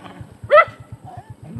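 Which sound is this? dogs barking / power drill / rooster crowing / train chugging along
dogs barking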